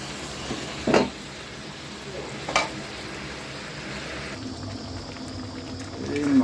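Meat simmers in water in a pot as it is stirred, a steady bubbling hiss broken by two brief clanks of the spoon against the pot.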